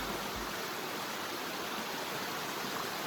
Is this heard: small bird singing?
no